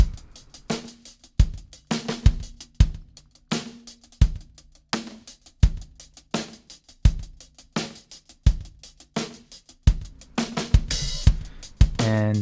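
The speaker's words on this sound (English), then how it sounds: "I believe that the snare around this area was sounding a little funky, a little ringy." A drum mix in which a ringy, slightly funky snare cracks out in a steady backbeat against kick and cymbals, each hit leaving a short resonant tail.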